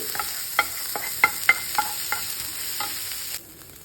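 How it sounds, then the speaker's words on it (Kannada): Food frying in a pan on a home stove while being stirred, with a soft sizzle under a series of light scraping and tapping strokes, close and fairly quiet, with no talk. "ಸ್ವಲ್ಪ ಫ್ರೈ ಆಗಲಿ"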